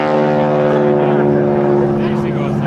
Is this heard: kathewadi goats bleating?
no